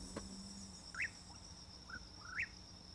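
Insects chirp faintly in a quiet outdoor setting, with a steady high buzzing trill and a few short rising chirps standing out.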